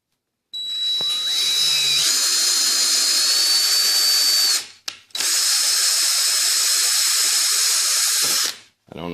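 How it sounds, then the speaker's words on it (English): A power drill runs on low speed, spinning a bolt to cut threads into a hole, giving a steady high whine in two long sustained runs separated by a brief stop, loud and close. "I'm going to chuck this up in a drill"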